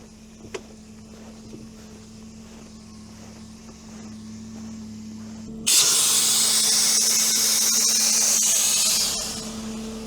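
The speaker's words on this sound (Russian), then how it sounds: "Так, ну вот, колеса спустили." Steady loud hiss of air escaping from deflated car tires on a vehicle stuck on ice under snow, starting abruptly partway through after a quieter stretch with a low engine hum, then continuing for several seconds before easing slightly.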